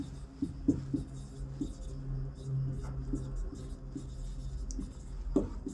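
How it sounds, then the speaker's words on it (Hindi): Quick writing on a classroom board during a Hindi physics lecture on semiconductors, a run of soft scratchy strokes and taps against a low steady hum, with no talking. "तो मैं लिख देता हूँ फटाफट"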